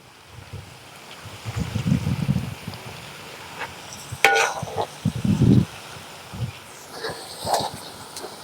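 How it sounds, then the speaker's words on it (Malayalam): Ginger is stirred and fried in a pan for fish pickle, giving an uneven sizzle with scraping stirring bursts that come and go over a low background hiss. "ഇഞ്ചി നമുക്ക് നന്നായിട്ടൊന്ന് ഇളക്കി കൊടുക്കാം ഇല്ലെ ഒട്ടിപ്പിടിക്കും"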